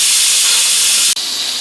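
Steam vents from an Instant Pot pressure cooker in a steady, loud broadband hiss with a brief dip and sharp break before the hissing continues.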